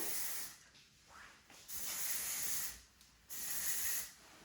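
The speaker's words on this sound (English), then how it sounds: "here's my dry texturizing. Just gonna spray that up through here" Close hissing bursts of an aerosol dry texturizing hair spray, two long sprays with shorter puffs between, fairly quiet, no talking.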